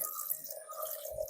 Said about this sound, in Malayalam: അപ്പൊ ഗൈസ് വെള്ളം പാരുന്ന സൗണ്ടൊക്കെ കേക്കുന്നുണ്ട്